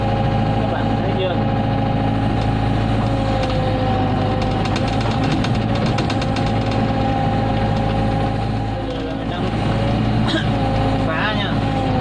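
Mini excavator digging through a rocky road, its engine droning loud and close throughout with knocking mechanical rumble and scraping, and a voice talking over it.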